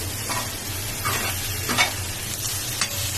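Mashed fish, loitta in the cooking, frying in a pan gives a continuous sizzle, while a spatula stirs and scrapes it in repeated short strokes, close and fairly loud.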